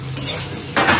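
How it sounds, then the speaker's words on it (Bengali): Poppy seeds frying with potatoes in a pan, heard as soft clinking and scraping of a utensil against the pan over a faint sizzle, with a louder clatter near the end. "পোস্তটা দিয়ে খানিকক্ষণ ভাজতে হবে।"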